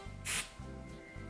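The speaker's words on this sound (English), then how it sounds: "And then spray front and back." Hairspray is sprayed onto teased, backcombed hair in one short, close burst of hissing aerosol over a quiet room with faint low hum.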